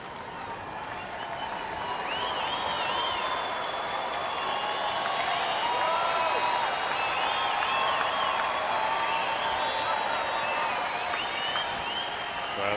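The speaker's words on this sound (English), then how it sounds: "Crowd trying to boost Eric Stoltz" Baseball stadium crowd applauding and cheering at a major league game in San Diego, a broad, fairly distant wash of clapping and voices that swells and holds steady with shouts rising above it.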